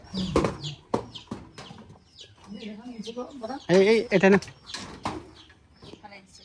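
Chickens clucking near a bird house, several short clucks and calls close by, mixed with people talking.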